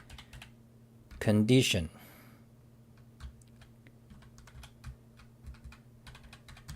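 Typing Emacs Lisp code on a computer keyboard, soft scattered keystrokes at an uneven pace with a brief burst of louder clatter early on, as someone speaks quietly between the keys.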